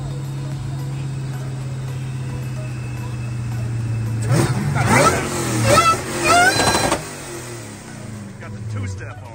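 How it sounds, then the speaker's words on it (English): Mazda Miata with a Hellcat engine swap idling with a steady low rumble, then revving hard in several rising bursts before settling back, while people talk over it at a car meet. "We got a Miata with a damn Hellcat swap in it."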